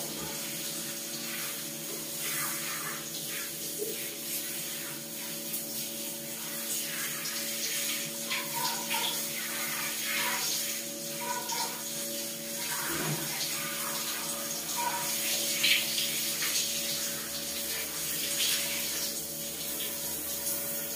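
Water runs steadily into a bathtub during washing in a bathroom, a continuous hiss of flow at moderate level throughout, with faint voices and occasional small splashes beneath it.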